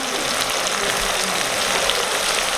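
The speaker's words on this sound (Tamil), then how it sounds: "நாங்கள் இந்த வெங்காயத்தை கொஞ்சமாக போட்டு பொரிச்சு எடுக்க போகிறோம்." Sliced onions fry in hot oil for turkey biryani, a loud, steady, close hiss and crackle of sizzling that runs without pause and without any voices.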